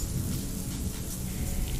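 Heavy rain pours in a dense, loud, continuous hiss with a low rumbling undertone like distant thunder, used as a storm sound effect in a narrated story.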